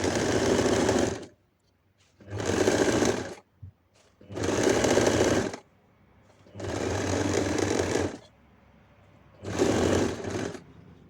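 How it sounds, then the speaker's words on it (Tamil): Sewing machine stitching through satin fabric and net lining layers, with five loud bursts of rapid mechanical whirring separated by short quiet pauses, heard alone up close. "ஸோ 3த்தையும் ஒரே லைனில் வச்சு நம்ம பின் பண்ணி எடுத்துகிட்டு தைச்சி எடுத்துக்கலாம்."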